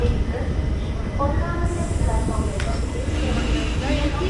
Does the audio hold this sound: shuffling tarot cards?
no